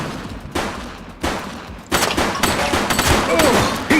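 Gunfire in The Precinct, a police video game, with several sharp bursts spaced across the stretch and a denser run of shots toward the end, heard over game background noise.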